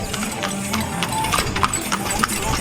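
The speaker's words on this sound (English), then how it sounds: "That man is literally delivering a birthday cake in a horse and carriage." Horse hooves clip-clopping on a street in Cuba as a horse and carriage passes, a steady mid-distance trot running under street noise and some voices.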